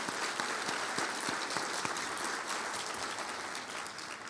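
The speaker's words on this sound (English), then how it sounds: "let's give a big round of applause" A large audience applauds steadily at a community violence intervention and prevention grantee convening in St. Louis, the dense clapping sustained throughout and fairly even in level, with no talking over it.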